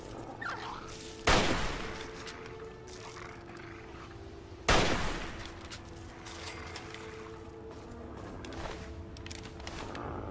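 Gunfire aimed at giant ants in the video game Fallout 3: two sharp, loud shots several seconds apart, each with a decaying tail, over a steady game ambience hum.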